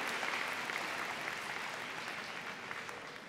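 A crowd at a high school senior convocation claps steadily for a staff member, a dense, even wash of applause held at a constant level throughout, with no voices rising above it.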